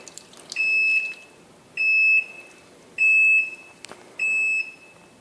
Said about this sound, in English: it's going to make that annoying beep sound